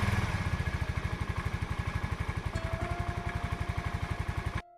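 A motorcycle engine runs with a fast, steady, close thumping beat that holds an even rhythm for several seconds and then cuts off abruptly.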